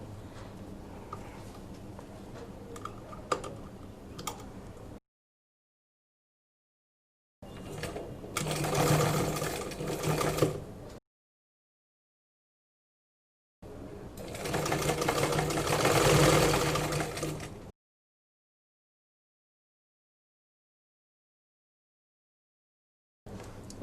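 A sewing machine stitches a half collar in two loud bursts of rapid mechanical clatter, each lasting a few seconds and separated by silence, after a quieter stretch of faint handling noises.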